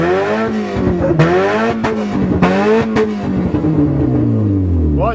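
A Suzuki GS 850 motorcycle engine revs loudly and close, its pitch climbing and falling in repeated throttle blips, then settling into a steadier drone toward the end.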